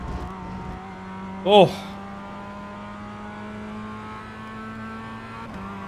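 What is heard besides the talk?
race cars on cold tyres in the racing game iRacing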